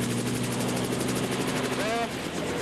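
A helicopter on a maiden flight runs its rotor up to normal running speed, giving a steady droning engine hum with a fast rhythmic rotor chop over it and a brief rising whine near the end, close and continuous.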